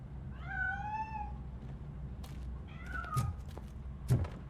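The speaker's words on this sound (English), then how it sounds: "That cat must be hiding inside." A cat meows in the video game RoboCop: Rogue City. Two or three clear, rising and falling mews sound from nearby, followed by a couple of soft thumps against a low ambient hum.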